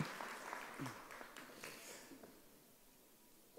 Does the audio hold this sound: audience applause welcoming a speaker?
yes